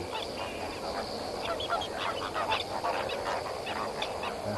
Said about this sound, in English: African ducks.